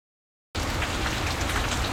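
Rain suddenly starts pouring down outside, a loud, dense, steady hiss of drops that begins abruptly after a brief silence and continues unbroken.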